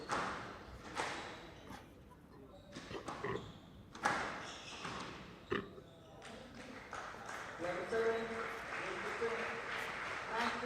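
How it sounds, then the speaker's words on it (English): Crowd applause at a national squash championship semi-final, a scattered burst of claps that swells after the match ball, with a commentator talking over it. "A round of applause for the winner"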